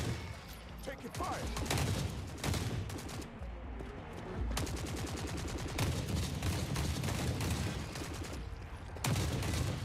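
Gunfire from machine guns and shotguns in the video game The Forever Winter crackles in dense bursts and volleys, loud and close, with brief pauses between strings of shots.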